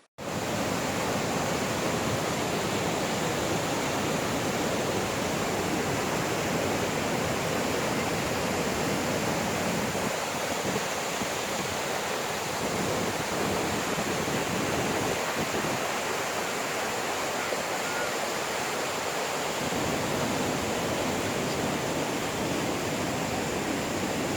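The Snoqualmie River flows along a Pacific Northwest hiking trail toward Franklin Falls, a loud, steady roar of rushing water that continues unbroken, heard alone.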